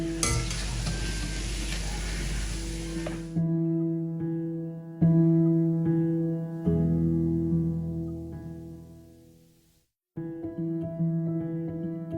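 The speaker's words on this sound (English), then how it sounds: "So this one have been fried for almost 6 to 8 good minutes." Nigerian chin-chin dough pieces deep frying in oil give a loud, steady, dense sizzle up close for about three seconds, then the frying gives way to sustained tonal music.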